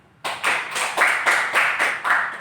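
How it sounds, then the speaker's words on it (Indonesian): Classroom clapping from a group of students in an Islamic religious education lesson, about eight loud rhythmic claps in unison at a brisk, even pace, close and with no talking over them. "Baik, tepuk tangan"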